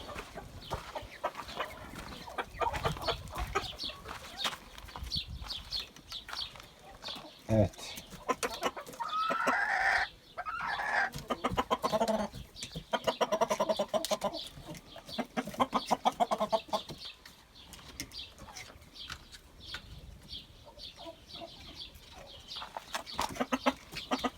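Caged chickens cluck and squawk at a market, fairly close, mixed with people talking and general bustle throughout.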